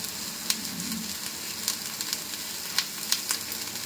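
Food frying in a pan at home while chicken ghugni is cooked for dinner, a continuous close sizzle broken by occasional sharp utensil taps and scrapes.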